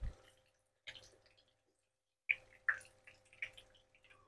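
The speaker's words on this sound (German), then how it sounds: "durch mein Krepppapier tropft es wunderbar ab" Fried aubergine slices drip onto crepe paper in a kitchen, giving a few faint, scattered drips and soft taps separated by quiet gaps.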